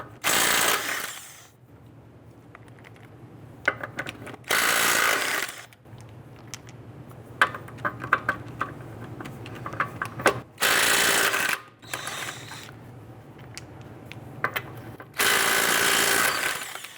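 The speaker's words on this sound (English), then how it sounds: "I'm going to loosen and remove our lug nuts." Lug nuts being loosened and removed from the front wheel of a 2005-2010 Chrysler 300 with a 21mm socket, heard as several loud bursts of whirring power-tool rattle, separated by quieter stretches of faint clicks and handling noise.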